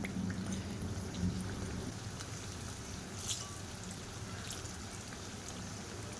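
Khaja sweets deep-frying in a pan of hot oil until crisp, a steady dense sizzle and bubbling crackle that runs unbroken and close throughout, with no talk.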